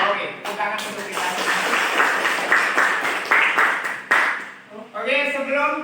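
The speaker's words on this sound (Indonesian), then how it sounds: "tepuk tangan untuk kita" A classroom of students applauds together during a lesson opening, steady broadband clapping filling most of the moment, with children's voices and chatter mixed in and rising toward the end.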